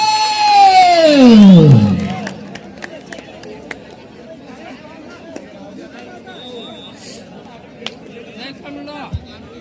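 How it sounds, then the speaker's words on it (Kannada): Crowd at a Kavatagi kabaddi match between Mumbai and Maharashtra: a loud swooping shout opens, then a busy, lively crowd murmur continues with scattered sharp claps and calls. "ಬರ್ಲಿ ಒಂದ್ಸಲ ಜೋರಾದ ಚಪ್ಪಾಳೆ."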